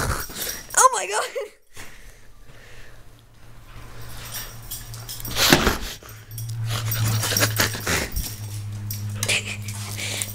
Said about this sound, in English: Dog goes wild.